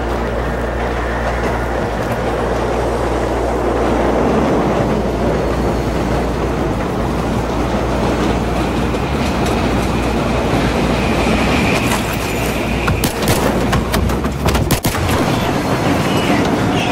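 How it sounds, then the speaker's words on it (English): A train rumbles past in Battlefield 3, a loud, steady roar of rolling wagons and wheel clatter that lasts throughout, with gunfire bursts and shouted voices breaking in briefly. "The train's coming!"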